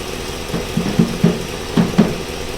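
Ford F1 shop truck engine idling with a steady low drone, a handful of soft periodic knocks or pulses riding on top, close and moderately loud, no talking.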